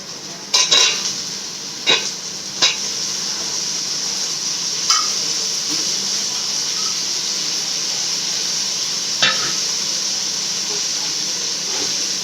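Chopped tomatoes are stirred and sautéed in a pan for chicken biryani, bringing a steady hiss of cooking with a few sharp utensil clinks and scrapes against the pan near the start.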